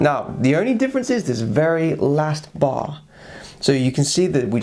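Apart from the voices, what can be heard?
No distinct noise like a dog, phone or traffic.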